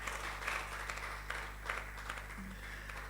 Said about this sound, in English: Can we give a round of applause to ourselves for being here, every single one of us?